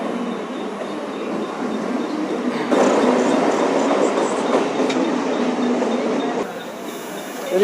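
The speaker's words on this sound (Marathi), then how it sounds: "प्लॅटफॉर्मला आली आपली पाच त्रेपन्नची लोकल" Mumbai local train rolls into a platform with a loud, sustained rumble and rattle of the carriages, which swells midway and eases as the train slows, with no talk over it.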